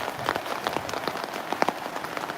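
Rain falling in a rural Turkish hazelnut-picking area, a steady patter of scattered drops tapping a surface at moderate volume, with no voices.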